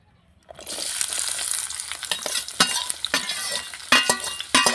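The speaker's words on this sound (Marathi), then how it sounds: "इथे मी कढईमध्ये तेल घातलेलं आहे आता कांदा चिरून घेतलेला होता तो टाकला आणि मस्त परतून घेते" Chopped onion drops into hot oil in a kadai, bursting into a loud close sizzle after a brief silence, with repeated scraping stir strokes over the frying, no speech.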